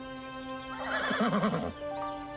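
A horse lets out a loud, close whinny, its wavering neigh rising and falling for about a second over a steady background hum, with no talking.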